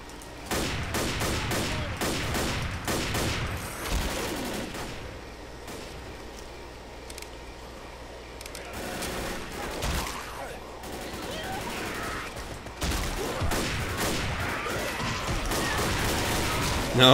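Hunting rifle and other gunfire in the zombie shooter Left 4 Dead, with rapid volleys of shots in bursts across the whole stretch, a quieter lull midway, then heavy firing again.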